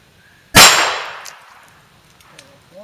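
A single sharp gunshot from a ROHM single action cowboy pistol cracks loudly, followed by a fading echoing decay and faint background noise.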